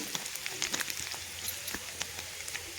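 Grated ginger lightly frying in a pan for potol paneer dolma gives a steady, soft sizzle with scattered faint crackles, close by and alone, with no talk.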